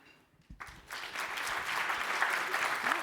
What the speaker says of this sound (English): Straight talk, talking truth to the CEO, easy, clap